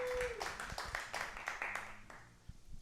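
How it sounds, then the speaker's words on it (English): Audience at a stand-up comedy show claps after the comic asks for a round of applause, a short burst of clapping with a few voices mixed in, fading over under three seconds. "How about a round of applause for yourselves for being here?"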